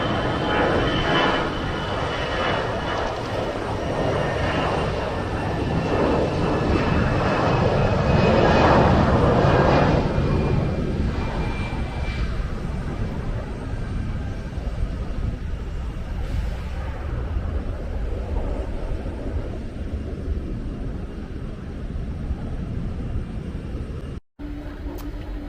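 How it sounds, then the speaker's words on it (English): An American Airlines airliner takes off at Tampa International Airport, its jet engines giving a steady, broad roar that swells slightly and then holds as a continuous wash of noise heard from the terminal area. "Now we have an American Airlines flight about to take off."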